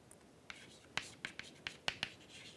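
Chalk or marker strokes on a board during a lecture on pushdown automata, about seven short, sharp taps and scratches at an uneven pace, faint and close.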